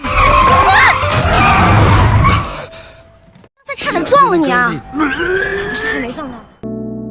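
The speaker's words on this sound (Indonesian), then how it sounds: "ia nyaris tertabrak oleh seorang pengemudi mobil yang ngebut" A speeding car skids in a Chinese film scene: a loud rush with squealing tones for a couple of seconds, then a short quiet gap followed by strained vocal groans and voices.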